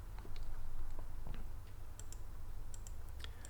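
Someone types a message on a computer keyboard: soft, quick key clicks in irregular bursts, close and faint over a low background hum, with no voices.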